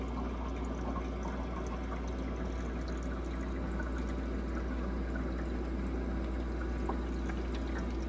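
Water trickles and pours steadily into the ice tray of a portable ice maker, a faint continuous watery wash under a low pump hum, with no talking.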